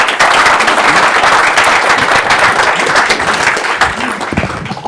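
A conference audience at Alfresco Summit 2014 in San Francisco applauds after a lightning talk, a loud, dense, sustained burst of clapping that fills the room and tapers slightly at the end.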